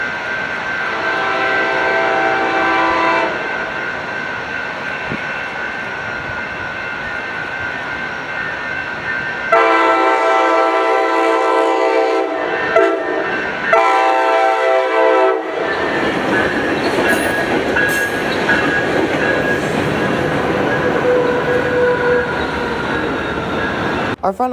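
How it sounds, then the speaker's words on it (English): A train horn blares in long, loud blasts as a Coaster commuter train led by a cab car rumbles past nearby, its steady roar continuing after the horn stops. "Next up would be a slightly late Coaster 632 heading to San Diego with Cab Car 2306"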